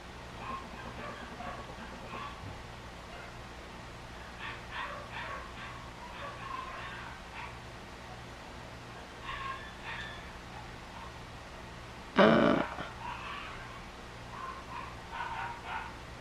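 Puppies barking in yips and short whimpers at a moderate distance, coming in intermittent clusters over a steady low hum, with one louder burst near the end.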